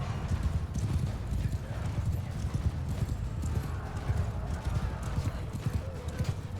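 Horse hooves pound in a continuous galloping clip-clop throughout a Mount & Blade II Bannerlord battle, loud and rhythmic with no pause.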